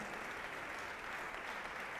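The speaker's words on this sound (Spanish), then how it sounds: "Démosle un fuerte aplauso al Señor esta mañana." Steady applause from a church congregation, a dense wash of clapping that holds evenly throughout without pause.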